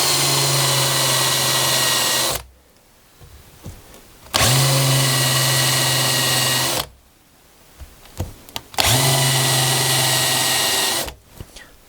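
Power drill countersinking screw holes in a wooden router fence, three loud close whirring runs of about two seconds each, separated by quiet pauses with faint handling clicks.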